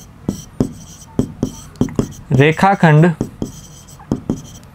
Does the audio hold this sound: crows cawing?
no